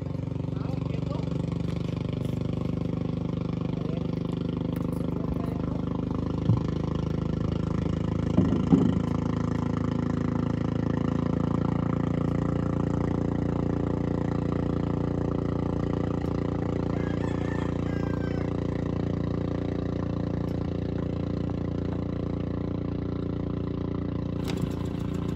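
A small 7.5 boat engine runs at sea with a steady low mechanical drone that holds constant throughout, moderately loud and close, with a few faint knocks over it.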